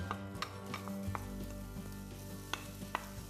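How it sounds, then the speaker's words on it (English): Diced onion hitting hot vegetable oil in a pan on a stove, a close steady sizzle with a few clicks and scrapes of stirring, no talking. "into that pan a little bit of vegetable oil. Into our pan goes our diced onion"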